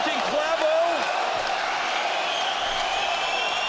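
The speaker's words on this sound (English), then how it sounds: "And there you hear the crowd chanting Claveau." Crowd at a live MMA event chanting a fighter's name, a dense, steady roar of many voices filling the arena, loud and continuous under brief commentary at the start.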